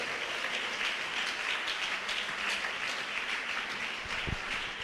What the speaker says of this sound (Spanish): Aplauda al Señor, Dios Todopoderoso.